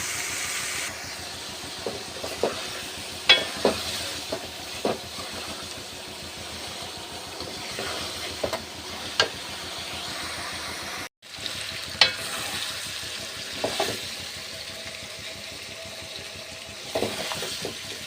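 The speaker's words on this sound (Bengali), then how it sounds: "সব মশলা দিয়ে কষিয়ে নিচ্ছি মশলাটা" Spices being fried and stirred in a wok over a stove at night, with a steady sizzle broken by repeated clinks and scrapes of stirring close by, no voices.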